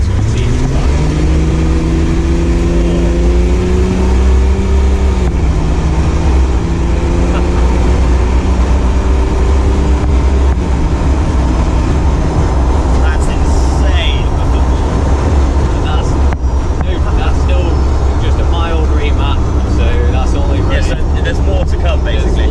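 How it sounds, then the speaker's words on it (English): A Land Rover Defender fitted with a BMW X5 engine pulls away hard, its engine note climbing through gear changes, loud and close inside the cab while people talk over it. "you'll see this has got a good initial power pickup on it compared to a TD5."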